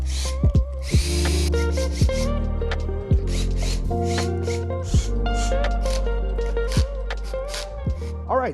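A power drill backs out the pickup screws on a Stratocaster, whirring in a series of short, rising and falling bursts with brief pauses between them, close and clear.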